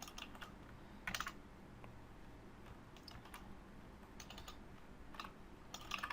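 Keys clatter on a computer keyboard in quiet, scattered bursts of quick taps with pauses between them, faint and close in a still room.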